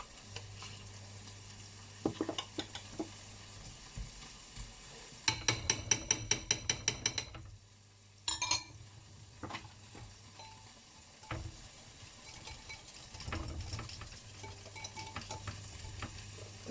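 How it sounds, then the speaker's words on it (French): Leftover crème fraîche is scraped out of its container with a spoon, producing soft repeated scrapes and taps against the container, faint and close, with vegetables sizzling quietly in a pan nearby. "On gratte bien tout."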